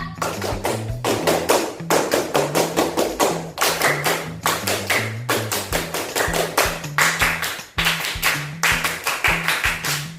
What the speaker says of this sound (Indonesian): Ayo kita 3 kali tepuk pramuka